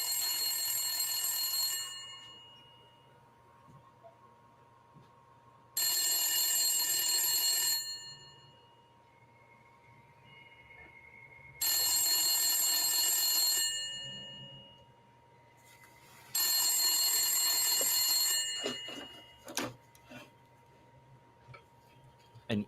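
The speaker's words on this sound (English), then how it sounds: "A couple of minutes go by when yet another phone starts to ring." A telephone rings in four long bursts of bright, shrill bell tone separated by pauses of quiet hum, then a few sharp clicks follow, with no voices.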